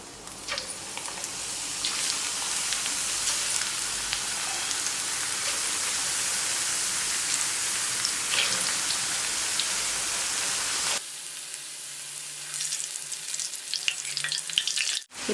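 Washed potato chips fry in hot oil with a dense, loud, steady sizzle like heavy rain. It cuts off abruptly near the end, leaving faint scraping and a quieter crackle.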